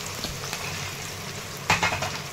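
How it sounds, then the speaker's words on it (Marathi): Finely ground garlic, ginger and coconut paste frying in oil with cumin, mustard seeds and onion for tomato moong dal, a moderate steady sizzle with a sharper burst of crackling and stirring near the end. "लसूण अद्रक खोबरं हे बारीक करून घेतले, तेलामध्ये टाकून घेतलेलं आहे।"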